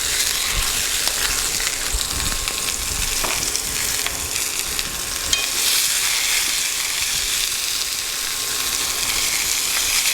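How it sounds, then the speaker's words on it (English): Sausage with sliced peppers and onions fries in a pan, giving a steady, close sizzle with faint scraping and clicks from stirring throughout. "let the vegetables wilt right in the pan with the meat"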